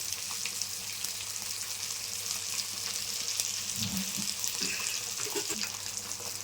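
Ragandi fish frying in oil in a non-stick pan gives a steady, loud, close sizzle throughout, with a few soft stirring knocks underneath.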